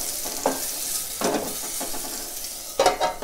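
Half a teaspoon of turmeric stirred into a pan while preparing green chilli tamarind karam, with a soft continuous sizzle and a few scraping stir strokes, the last ones louder near the end.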